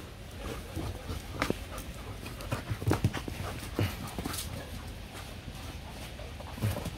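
A Hmong bobtail dog playing with a German Shepherd and a Golden Retriever, with soft panting, paw scuffles and light thumps on the ground at moderate distance.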